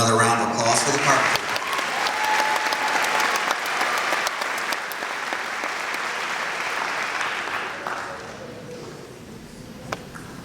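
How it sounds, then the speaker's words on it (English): An audience at a senior awards ceremony claps in sustained, dense applause that holds steady for several seconds, then gradually thins and fades near the end. "Could we please have another round of applause for the carpenter?"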